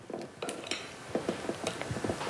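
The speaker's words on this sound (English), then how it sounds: "Stir that to combine." Chicken tossed in buffalo sauce is stirred with a utensil in a pot, giving a series of irregular close clinks and scrapes against the metal.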